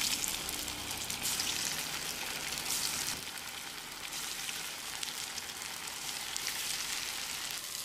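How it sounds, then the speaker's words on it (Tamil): Halved idli pieces fry in hot oil for idli 65, a dense, continuous sizzle and crackle close by, steady and loud throughout with a slight dip in intensity partway. "இப்போ இதை நம்ம எண்ணெயில் பொரிச்சு எடுத்துடலாம்."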